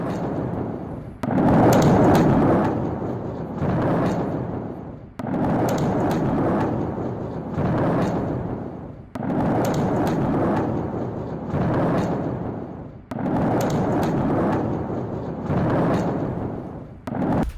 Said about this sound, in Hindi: मिसाइलों में विस्फोट से रोशन हुआ पूरा आसमान